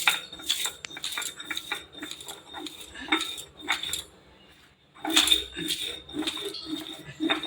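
Fried whole spices are ground into powder by hand for a banana-blossom and prawn chop, giving repeated close clinks, knocks and scraping strokes in an uneven rhythm with brief pauses.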